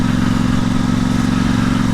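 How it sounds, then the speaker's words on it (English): A Royal Enfield Interceptor 650 runs on Short Shot exhausts fitted with removable baffles, giving a steady, loud, close-up idle with an even, deep pulsing thrum and no talking. "I think it now has more of that old brick bike sound"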